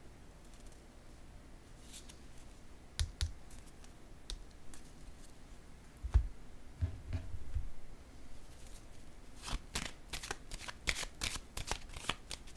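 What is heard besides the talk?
tarot cards being shuffled and laid down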